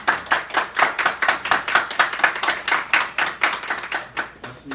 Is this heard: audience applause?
yes